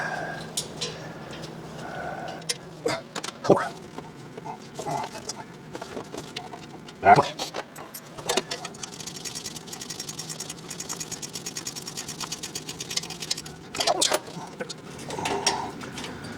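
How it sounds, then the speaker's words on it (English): Bolts being backed out of a car part with a ratchet wrench, heard as several short clicking runs with pauses and a louder clank, close-up in a quiet garage. "So I got to take all these bolts all the way out."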